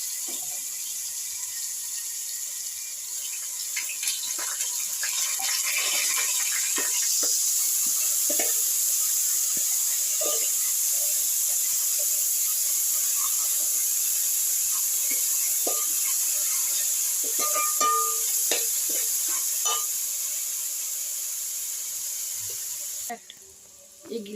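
Ginger garlic paste frying with onions in a pot for chicken biryani gives a steady, close sizzle and hiss with scattered crackles and pops, ending abruptly.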